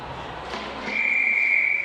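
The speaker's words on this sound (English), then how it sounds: "Refs are set to get underway, blowing their whistle" Long, shrill referee's whistle at a freshman ice hockey final, heard after some crowd and rink noise. The blast sounds loud and steady for about a second.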